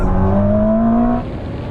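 A Ferrari SF90 and a BMW M superbike accelerate hard from 50 mph in third gear, loud close engine roar with a rising pitch that drops off as they pull away.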